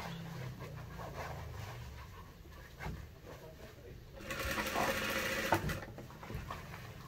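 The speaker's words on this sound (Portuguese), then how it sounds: "Venho puxando o meu forro e venho costurando." A sewing machine runs steadily while stitching a lining and second topstitch, a continuous mechanical hum that grows louder midway, with light background noise and a brief knock near the end.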